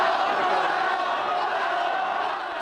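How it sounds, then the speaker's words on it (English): A large crowd of angry local residents and pro-democracy activists at a street protest, yelling together in a dense, continuous roar that stays loud throughout. "the crowd yelled at a mainland visitor"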